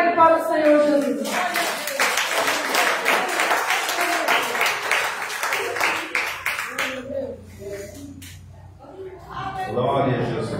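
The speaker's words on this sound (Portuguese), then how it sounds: "As palmas bem alegres para o Senhor Jesus." A church congregation claps along in steady rhythm during a lively worship moment, the dense claps continuing for several seconds under voices before trailing off.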